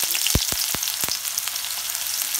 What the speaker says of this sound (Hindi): मैंने गैस के ऊपर 2 चम्मच तेल डाल दिया। अब हम इसमें थोड़ा सा चीनी डाल देंगे।